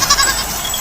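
Goats that have wandered into a crop field let out a loud, close bleat, brief and nasal, with no voices over it.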